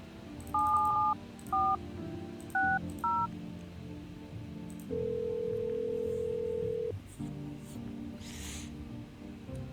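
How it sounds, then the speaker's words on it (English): Telephone keypad tones from the video game No, I'm Not a Human: a quick series of short dialing beeps in uneven bursts, followed by a longer steady tone and then a quieter background hum. "So I want to check the phone real quick, because we have a new number to call."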